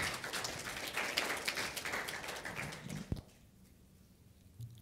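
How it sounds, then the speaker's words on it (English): Applause rises from a conference audience at a network abuse session, a full, dense crowd clapping for about three seconds before quickly dying away into quiet room tone. "Can I have a round of applause for Aftab now?"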